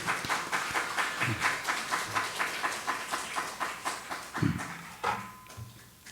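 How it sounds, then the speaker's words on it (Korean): A church congregation claps to welcome the pastor to the pulpit, a brisk, even rhythm of many hands that carries on for several seconds and then gradually thins out. "우리 박수로 환영하도록 하겠습니다."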